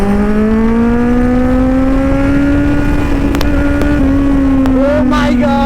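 A Kawasaki Ninja Z900 superbike engine held at a loud, steady high-rev drone with its pitch slowly rising, then a brief throttle blip near the end, close up with wind rush and no talk.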